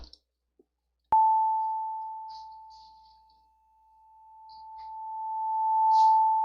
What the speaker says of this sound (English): the next sound is gonna have a sharp attack to start off with, and then it's gonna repeat in this triangular fashion up and down